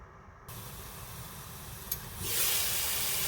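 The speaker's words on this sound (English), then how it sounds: "It's been frying about 2 minutes." Cube steak frying in a pan gives a steady, close sizzling hiss that swells noticeably louder near the end, with no talking.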